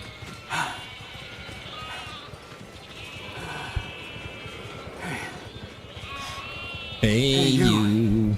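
Sheep bleat repeatedly in The Alters video game, several drawn-out calls scattered over ambient game sound, with a loud, close bleat near the end; someone talks over parts of it.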